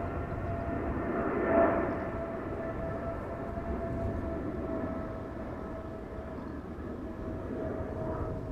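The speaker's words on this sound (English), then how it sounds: "going back to Dubai. It is a 777-300ER." A Boeing 777-300ER airliner at Amsterdam Schiphol Airport, heard from beside runway 36L, the Polderbaan, gives a steady, moderately loud jet roar that swells briefly early on and then holds as a continuous rumble.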